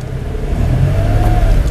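A Mitsubishi Mirage pulls out of a showroom, its small engine revving up with a rising whir and road rumble close by, without speech.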